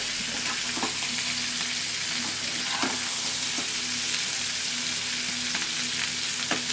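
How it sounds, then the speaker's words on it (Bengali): Potatoes for a street-style aloo dum frying in a pan and being turned over, with continuous loud close sizzling and repeated scraping strokes of the spatula, no voices. "দেখো আবার একটু নেড়ে চেড়ে দিচ্ছি। আলুগুলো বেশ ভালো মতো ভাজা হয়েছে।"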